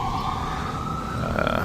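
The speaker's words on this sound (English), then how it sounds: "Like it's an ambulance" An ambulance siren passes through rainy Gatlinburg, a steady loud wailing tone over rumbling traffic and rain noise.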